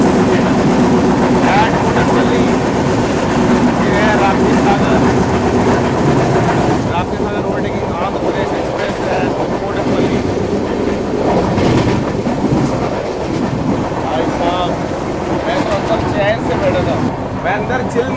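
The Rapti Sagar Express rolls along loudly during an overtake, its continuous rumble and clickety-clack of wheels on rails close by, with a voice speaking over the din.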